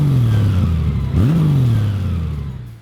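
A Honda Gold Wing Tour, 2018 or later, with a liquid-cooled, horizontally opposed 1,833 cc six-cylinder engine, revs loudly and close up, its smooth drone dipping and climbing once before fading down.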